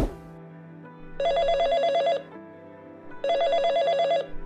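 A telephone rings on an unanswered call, two loud, even bursts of bright electronic ringing separated by a pause, alone with no talking.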